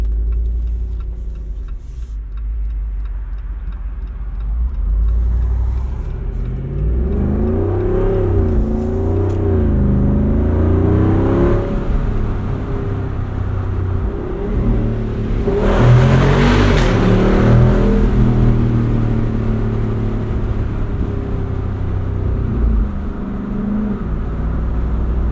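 The engine of a 2024 Jeep Wrangler Rubicon 392 Final Edition, heard from inside the cabin while driving, revs and accelerates in a loud, deep, rising roar with a sustained rumble and some faint ticking, with no talk.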